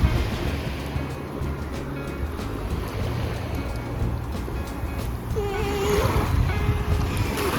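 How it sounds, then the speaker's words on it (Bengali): Sea waves at Bakkhali beach, a continuous broad wash of surf with wind, swelling louder toward the end, no talking. "বকখালির সমুদ্রের জল,"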